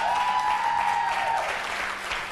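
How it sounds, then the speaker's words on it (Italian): Brief burst of clapping from a studio audience at an Italian football TV show, dense and even at first, then thinning out over about two seconds. "applauso."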